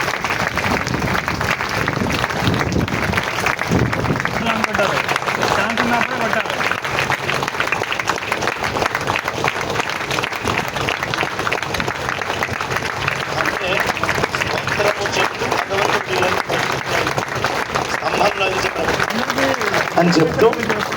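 Audience applause at a ceremony in Hyderabad honouring Nandhuri, dense continuous clapping from a large crowd, loud and sustained throughout with a faint voice underneath.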